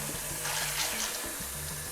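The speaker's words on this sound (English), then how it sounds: "we're going to refill this with some more water" Tap water pours steadily into a cooking pot being refilled for boiling beans, a continuous close, loud rushing splash with a slight shift in tone as it fills.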